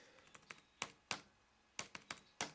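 Keys tapped on an Acer laptop keyboard, a string of about ten sharp, close plastic clicks in an uneven rhythm against a quiet room.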